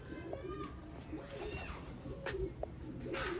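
Bloodline pigeons coo softly at a pigeon fancier's loft, low murmuring calls under a voice and steady background noise.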